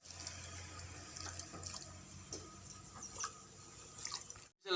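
Running tap water pours and splashes as caught flying termites are rinsed and swished in a vessel, a steady close stream with small sloshes and drips.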